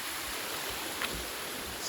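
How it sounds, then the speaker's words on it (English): A small waterfall in a home garden gives off a steady, broadband rush of falling water, constant and moderately near, with no voices over it. "Got one little waterfall there."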